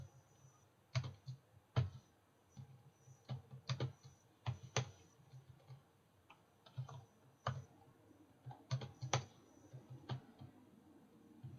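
Computer keyboard typing in bursts of sharp, close clicks with short pauses, tapping out text at an uneven rhythm, no voices.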